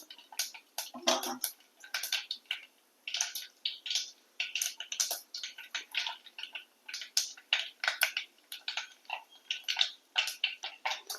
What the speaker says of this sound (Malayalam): നന്നായി പൊട്ടുന്നുണ്ട്